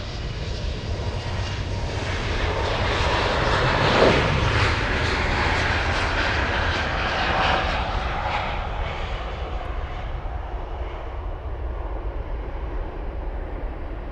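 A heavy Lufthansa jet, flight 1708, makes an intersection takeoff on runway 08R at Munich, a sustained engine roar that swells to a peak and then eases into a steady distant rumble.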